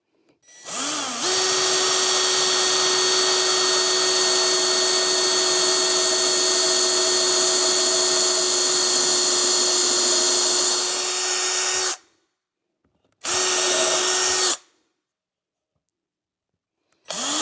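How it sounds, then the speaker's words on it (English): A power drill with a small bit whines steadily for about ten seconds drilling a pilot hole in a wooden handle, then stops; two short bursts follow, each roughly a second long, loud and close. "I'm going to use a small bit, drill a pilot hole"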